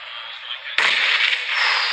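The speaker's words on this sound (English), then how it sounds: "The nades coming through now" A grenade goes off in a PUBG Mobile match, a sudden loud burst after a quieter moment that leaves a bright crackling roar ringing on afterward.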